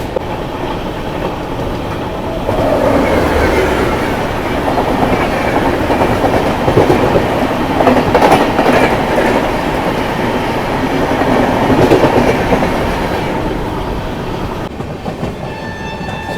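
The Kaziranga Express, a Bengaluru–Guwahati superfast train, rolls along the rails with a loud steady rumble and rhythmic clickety-clack of wheels over joints, heard from inside the coach, easing off slightly toward the end.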